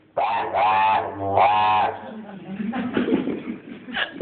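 A person voices two loud, harsh squawking cries imitating a cockatoo, followed by rougher, quieter vocal sounds.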